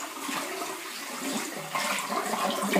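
Water splashing steadily as a face is rinsed with clear water after a facial scrub, continuous close wet swishing with slight surges, no talk.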